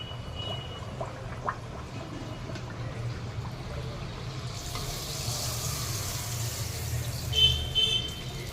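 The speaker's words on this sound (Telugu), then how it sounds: "ఈ రకంగా 2 వైపులా బ్రౌన్ కలర్ వచ్చేంత వరకు వేయించుకొని తీసేసుకోవాలి" Coconut boorelu frying in hot oil, a steady close sizzle and bubbling that runs throughout and swells slightly louder near the end.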